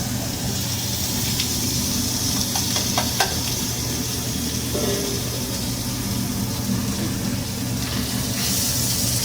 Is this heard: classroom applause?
no